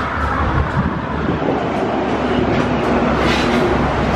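Ford Mustang GT V8 with a newly installed X-pipe exhaust, heard as a loud, steady, deep rumble held close to the car, with no revving and no voices.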